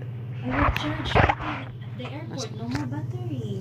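A dog whimpers and yips in short, high, wavering cries, close by and fairly loud, mixed with brief people talking and a steady low hum in the background.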